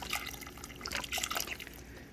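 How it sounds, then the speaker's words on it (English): Broth poured into a pot of homemade chicken noodle soup makes a soft, steady liquid trickle and splash. It is faint, lasts about two seconds and has no talk over it. "I might actually add a little bit more broth to this"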